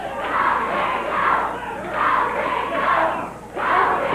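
A Memphis wrestling arena crowd chants in steady rhythmic waves, loud and close, repeating the same phrase about four times with brief dips between rounds.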